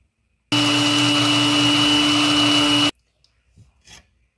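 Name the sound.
blender grinding eggshells and charcoal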